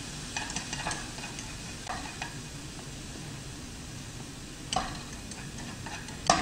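Julienned carrots stir-fry in oil in a pan over low to medium heat for a Korean nine-section platter, with a soft steady sizzle and scattered light scrapes and taps of a utensil, close up, with no talk.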